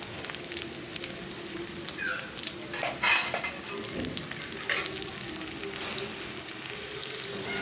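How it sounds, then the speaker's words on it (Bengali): Chopped onions frying in oil for beresta, crisp golden fried onions for morog polao, with a steady close sizzle and crackle broken by the scrape and clink of a spoon stirring them in the pan. "এখানে পেঁয়াজগুলো আমি বেরেস্তা করে নেব"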